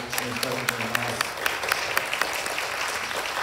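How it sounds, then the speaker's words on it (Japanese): An audience claps in thanks at the close of a sectional session of the 2021 World Conference against Atomic and Hydrogen Bombs in Nagasaki. Steady, fairly close applause runs throughout, with a voice speaking briefly over its start. "大きな拍手でお礼を感謝を示したいと思います。"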